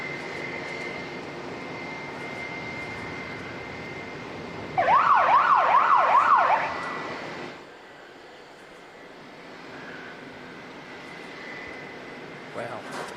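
Jetstar jet airliner engines roar steadily at Auckland Airport, then swell into a much louder burst with a warbling, siren-like tone for about two seconds before dropping back to a quieter, distant hum.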